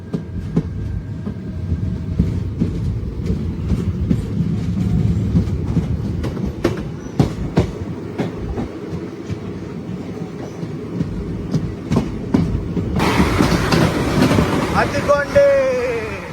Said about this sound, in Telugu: మనకి ఇక్కడ క్రాస్ ఓవర్ అయితే అవుతుంది చెన్నై వందే భారత్ ఎక్స్ప్రెస్ తో.